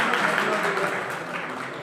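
An audience at an award ceremony claps in a loose, moderate round of applause, a brief soft wash of hands with some crowd murmur mixed in.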